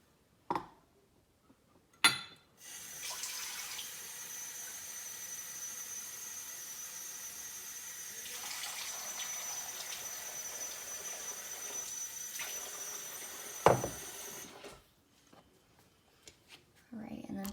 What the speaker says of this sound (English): I just need to grab 1 more cup of water for it.